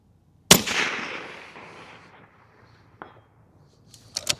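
A Ruger Precision Rifle Magnum chambered in 300 PRC fires one sharp, loud suppressed shot through a full-size 30 caliber can, its report decaying over about two seconds, followed by a faint distant impact and brief metallic clicks.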